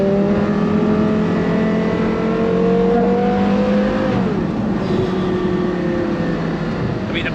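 Porsche Carrera GT with a titanium exhaust system driving, its engine holding a loud, sustained high-pitched tone that swells, drops with a gear change, then settles and continues steadily, with no talking.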